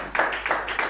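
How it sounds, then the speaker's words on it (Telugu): A congregation claps loudly in a brief burst of quick, rhythmic hand claps, close and energetic, lasting under a second. "గట్టిగా చప్పట్లు కొట్టి ప్రభువు నామమున మహిమపడదాం."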